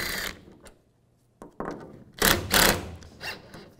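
A 13 mm socket on a ratchet backing out tailgate bolts on a 2007-2013 Chevy Silverado 1500, with metallic clicks, bursts of ratcheting and scraping, close and fairly loud, no talking.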